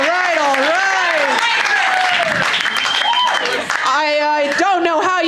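Audience applause at a live comedy game show, clapping and cheering under strong overlapping voices that run through the whole stretch.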